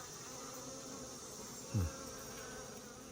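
A dense, steady buzzing of many honey bees in a hive fills the space, with one bee droning past close by for a moment.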